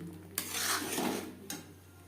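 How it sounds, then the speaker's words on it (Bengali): Tender green peas dropped into a pan with potatoes for a white aloo dum, followed by a spoon scraping and stirring, a brief rush of rattling then a second light scrape, fairly quiet and close. "দিয়ে দেবো মটরশুঁটি"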